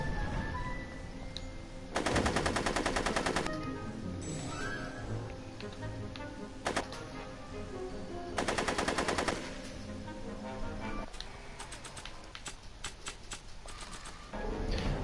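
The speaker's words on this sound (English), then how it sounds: "Why is Kid the only one shooting?" Gunfire rings out in the video game Back to the Future, Telltale episode 2: bursts of rapid automatic shots around two and eight seconds, scattered single shots between them and a run of crackling shots near the end.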